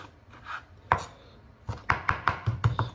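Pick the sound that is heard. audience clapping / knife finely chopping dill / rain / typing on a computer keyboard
knife finely chopping dill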